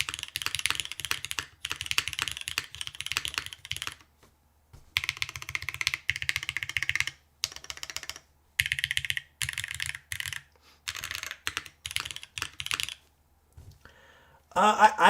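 Close, crisp keystrokes on a Keycult No. 2 TKL mechanical keyboard come in rapid bursts of typing separated by brief pauses.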